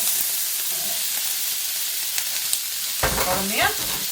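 Chopped onions sizzle and fry loudly in sunflower oil in a pan, a steady crackling hiss that picks up in intensity toward the end, with a brief spoken remark over it.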